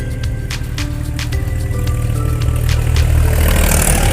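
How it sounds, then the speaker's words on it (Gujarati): A Sonalika tractor engine runs steadily during a test drive at a tractor dealership, a loud, continuous low rumble that grows slightly louder toward the end, with no talking. "મારો ભાઈ ટ્રેક્ટરની ડ્રાઈવ લે છે અત્યારે"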